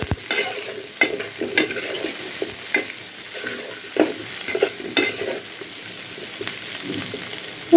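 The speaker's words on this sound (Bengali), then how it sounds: "এভাবে নাড়তে থাকবে।" Chicken and rice khichuri being stirred in a pan, with repeated scraping and clattering strokes of a spoon over a constant close sizzle, irregular knocks standing out every second or so, no voices.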